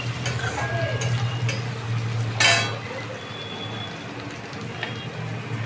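Chicken fat fried in a pan and stirred: a steady sizzle runs throughout with scraping and light clinks of the utensil, and one brighter splash of noise midway.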